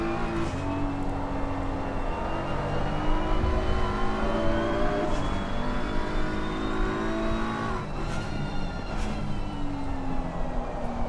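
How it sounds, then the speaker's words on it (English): A race car engine revs and shifts through gears at Spa-Francorchamps in a sim racing game, steady whining engine notes stepping down at downshifts, moderately loud throughout with no talk. "He downshifts from third to second quite late into here."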